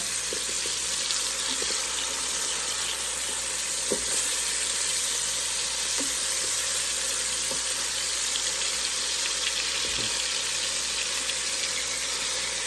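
Hamburger patties sizzle steadily in a Ninja Speedi just after being flipped, a constant broadband hiss with a few faint clicks and taps scattered throughout, no talking.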